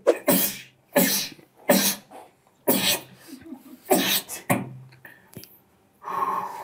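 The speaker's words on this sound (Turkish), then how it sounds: "Artık böyle hapşırmıyor musun? Yo, hapşırıyorum." A person sneezes repeatedly, about six loud, sharp explosive sneezes in a rapid irregular series, each followed by a short gasp or breathy pause, close and clear.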